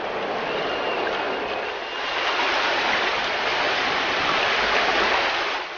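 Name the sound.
flowing water of the Kaveri river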